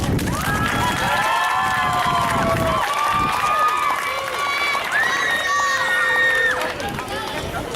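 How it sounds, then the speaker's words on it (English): A crowd at a rally at the Texas State Capitol cheering and shouting with high voices over a busy, sustained din, loud and close throughout. "let's give them a round of applause"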